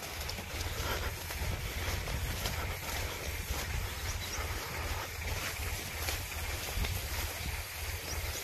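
A tractor engine idles steadily on a road during bale-pump pesticide spraying of a mung bean crop, a continuous low rumble under broadband wind-like noise, with no speech.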